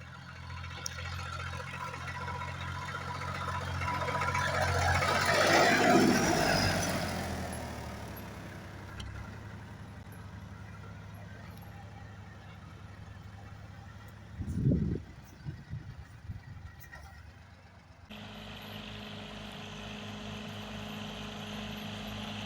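A 1962 Fordson Dexta tractor engine runs at a low, steady rumble while topping a field with a 5-foot bush hog topper, swelling louder for a few seconds before settling back to a constant drone.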